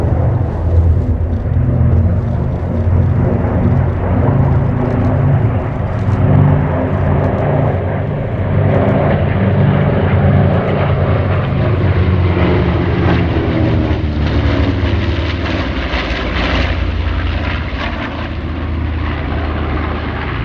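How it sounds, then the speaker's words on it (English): A B-25 bomber leads an airshow formation flypast, and the propeller engines drone loudly and continuously, a heavy roar that shifts in pitch as the formation passes. "They are in the cockpit of that B-25 as they lead the formation in from left to right."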